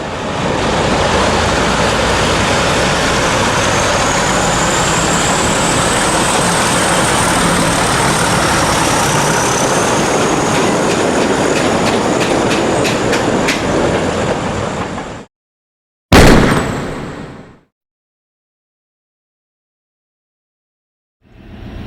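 British diesel locomotives pass with empty wagons, a loud, continuous roar with rhythmic clickety-clack of wheels over rail joints, a high squeal riding on top, then a sudden cut to silence.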